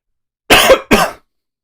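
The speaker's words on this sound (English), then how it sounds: "I get this deep chest cough, but the cough is mostly dry." Two dry, deep chest coughs from a person, close and loud, one right after the other with a short gap, with no other sound around them.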